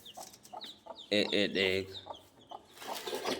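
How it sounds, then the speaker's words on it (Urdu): A hen with newly hatched chicks clucks in a burst of loud, close, rhythmic calls midway through, with faint chick peeps before and after and someone speaking briefly at the start. "یہ ہماری مرغی نے بچے نکالے ہوئے ہیں"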